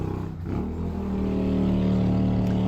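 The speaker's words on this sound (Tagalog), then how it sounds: "Daghan kay mga motor na ngagi anak oy" Motorcycles rumble past close by, a steady engine drone that swells slightly and holds loud and continuous with no talk over it.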